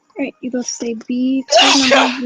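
A single sharp sneeze bursts out loudly at the end, following a person talking during an online study group session.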